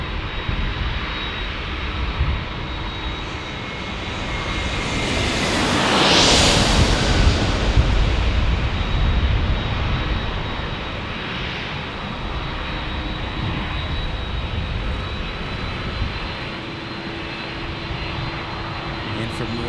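A Spirit Airlines jet landing at San Diego airport, its engine roar swelling loud as it passes close, then fading into a long steady rumble, with someone talking over it.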